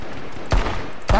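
Two sharp bursts of AR-15 rifle gunfire in a video game, roughly half a second apart, ring out over a faint steady background.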